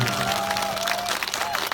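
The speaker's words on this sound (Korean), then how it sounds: "박수 한번 주세요." An audience at an amateur performance of a song breaks into applause, a brief, dense clatter of clapping heard close, with a sustained tone running beneath.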